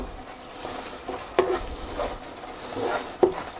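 A cherry tomato sambal cooks down in a pan with a continuous soft sizzle, broken by a few sharp spoon scrapes and knocks against the pan at irregular intervals, with no one speaking.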